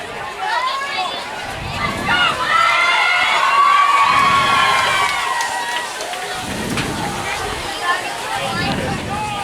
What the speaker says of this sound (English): Cheers. Yeah, big cheer.